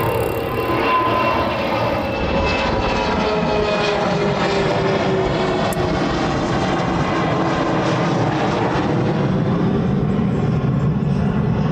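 A departing Boeing 717 jet gives a loud, continuous engine roar that holds steady throughout, heard from an airport plane-spotting spot with no talking.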